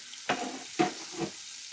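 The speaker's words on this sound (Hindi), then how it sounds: "फ्राई कर लेंगे" Cumin seeds and ginger garlic paste are stirred in hot oil over low heat, giving three short, quiet scraping sizzles with brief pauses between them.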